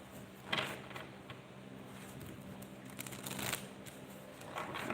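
Tarot cards being split and shuffled by hand, soft papery riffles and slides in a couple of brief bursts, quiet and close with no talk.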